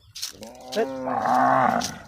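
A Gir cow in a Gujarat village lows close by in one long, deep, drawn-out moo that swells and then fades, heard alone without talk.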